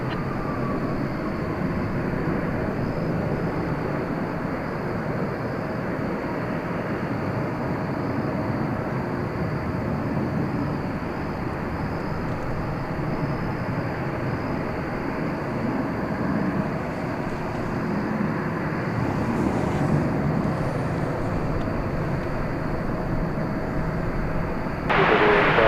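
An American Airlines jet taking off from runway 18 Left at DFW Airport at night, a steady, broad engine roar heard from a distance that swells slightly near the end.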